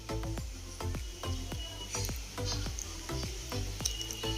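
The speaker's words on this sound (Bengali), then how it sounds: "এইভাবে আমি বাদ বাকি সব মাছগুলো একই রকমভাবে ভেজে তুলে নিচ্ছি।" Pomfret pieces frying in mustard oil in a pan, giving a crackling sizzle with regular sharp spatter pops roughly every few tenths of a second, close and fairly quiet, with no voices.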